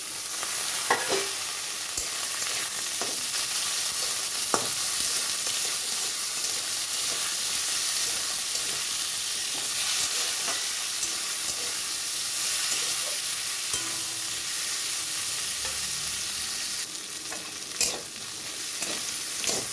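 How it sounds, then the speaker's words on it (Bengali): Prawns and potatoes sizzling with onion in a hot pan, a steady loud frying hiss with occasional stirring scrapes and clicks of the spatula, close by and without talk. "পেঁয়াজটা একটু ভাজা হয়ে গেছে তো এখানে চিংড়ি মাছ আলু একসঙ্গে দিয়ে দিচ্ছি"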